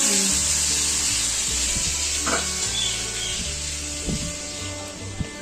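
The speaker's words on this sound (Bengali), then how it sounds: "আলুটা ভেজে নিচ্ছি" Potatoes frying in oil for a Bengali-style fish curry give a steady, close sizzle throughout, with a low hum beneath and a few faint clinks near the end.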